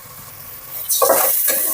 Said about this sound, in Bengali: এখন আমি পুরোটা মশলা এটার মধ্যে দিয়ে একটু ভেজে নিব